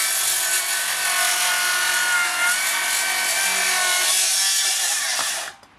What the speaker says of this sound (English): The saw is set to a 45-degree bevel, and this piece of timber is 3 inches or 75 millimeters thick.